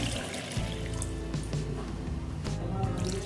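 Water goes into a pan of softened vegetables for semiya upma, a close, continuous splashing and sizzling squish with small dripping sounds.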